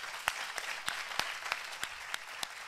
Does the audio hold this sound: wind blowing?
no